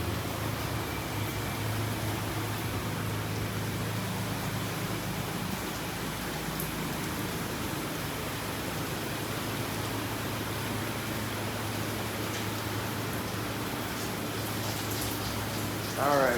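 A touch-free car wash sprays water in a steady, dense hiss that runs without a break, like heavy rain drumming on a vehicle, with a low mechanical hum underneath.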